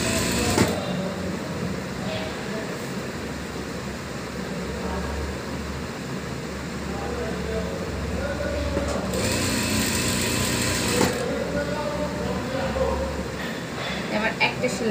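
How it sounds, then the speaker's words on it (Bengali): A sewing machine runs steadily beside the rubber waistband of a salwar, a continuous close motor hum that pauses briefly and restarts, with a person talking over it. "রাবারের পাশে সেলাইটা দিয়ে নিচ্ছি"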